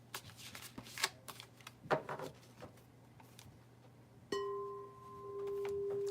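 Tarot cards are shuffled close by in a quiet room as a series of soft riffling flutters in uneven bursts, then a steady electronic tone begins partway through and continues under faint card sounds.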